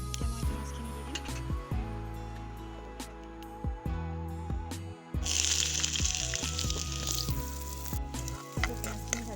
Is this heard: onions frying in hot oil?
yes